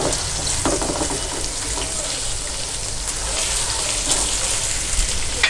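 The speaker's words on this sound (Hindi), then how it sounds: "ये देखें ये मैश हो रहा है चम्मच की मदद से।" Boneless chicken sizzles steadily in a hot pan on the stove while a spoon presses and mashes it, with scattered scraping taps over a constant frying hiss.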